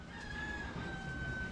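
A rooster crows once in a steady drawn-out call, clear but fairly quiet, with no talking over it.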